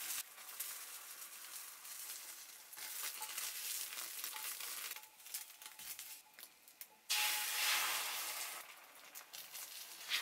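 Thin beaten egg for an omelette sizzles steadily in a frying pan, a soft continuous crackling hiss that dips briefly, then swells louder near the end.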